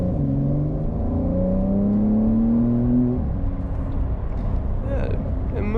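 Porsche 911 992 Carrera 4S, a 2020 model, accelerating in Sport Plus mode with revs held high; a steady engine drone rises in pitch through the gears, heard from inside the cabin with people talking over it.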